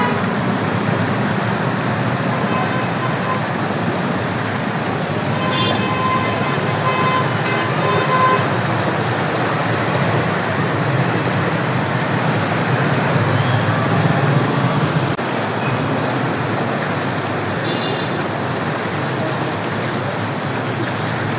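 Cars and motorbikes drive through flooded streets in Kathmandu after heavy rain, a continuous loud wash of splashing water and engine noise with occasional horn toots.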